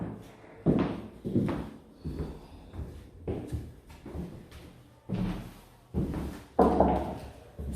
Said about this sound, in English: Solid wood doors that Clark just demonstrated